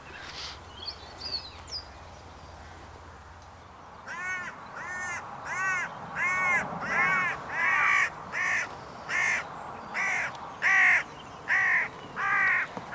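A hooded crow gives a long run of about a dozen harsh, rasping caws in steady rhythm, fairly close and loud, after a quieter opening with faint small-bird chirps and outdoor hiss, heard in open countryside during air rifle hunting.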